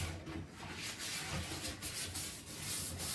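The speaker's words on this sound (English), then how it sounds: "Then I'm going to use my toilet brush." Bristles of a toilet brush scrub a toilet bowl in a quick, irregular series of close rubbing strokes that continue throughout, fairly quiet and alone.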